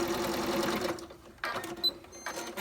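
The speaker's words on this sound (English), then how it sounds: "I'm just going to take that over to the sewing machine and sew right along that opening to close that up." A sewing machine stitches closed the opening of a fabric oven mitt, its steady motor whir running close and quiet, then breaking into shorter bursts with brief pauses near the end.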